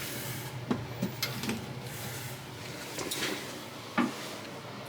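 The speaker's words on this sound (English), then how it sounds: "soft closing doors. That's always nice." Soft-closing cabinet doors in a Disney's Pop Century Resort standard hotel room give several soft thuds and light clicks over a steady room hiss.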